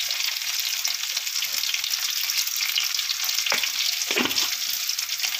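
Curry leaves and ginger garlic paste sauté in hot oil for an egg gravy, giving a steady close sizzle that runs throughout, with a couple of soft stirs near the end.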